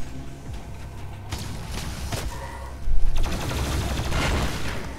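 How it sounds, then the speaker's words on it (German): Rapid bursts of plasma rifle fire and a loud explosion in Doom Eternal, shooting over enemy shields; dense crackling volleys build to a louder blast near the end. "Ich kann also mit diesem Plasmagewehr über diese Schilde schießen und dann explodiert es."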